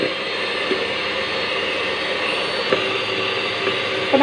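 Butter for a red velvet cake whipped with an electric mixer: a continuous droning motor whine, near and even, with a couple of faint knocks of the beaters against the bowl and no speech.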